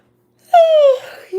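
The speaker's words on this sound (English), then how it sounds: "Sorry for so many yawns." A single drawn-out human yawn rises suddenly from silence, close and loud, with a sliding falling tone before it fades into a breathy tail.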